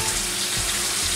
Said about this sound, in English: let me wash this okra real quick.